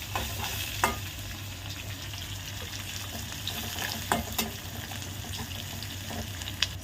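Vermicelli (semiya) is stirred in a hot pan at home, giving a soft steady sizzle with occasional light scraping clicks of the spoon against the pan, quiet and close with no talking.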